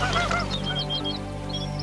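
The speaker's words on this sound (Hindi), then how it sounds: "हंस जोर जोर से चीखने लगे। भय के मारे पंख फड़फड़ाने लगे।" Swans shriek loudly in a tight, overlapping chorus of honking cries, dense and agitated from start to finish, with no talk over them.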